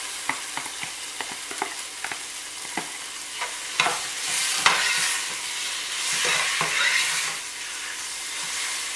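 Poblano strips fry with onion in a pan. A soft sizzle rises and swells while a utensil scrapes and taps against the pan in short, uneven strokes.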